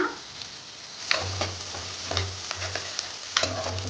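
Onions sautéing in a pan for ridge gourd kadaisal, giving a soft sizzle with a few light spatula taps and scrapes, close but fairly quiet, no voices.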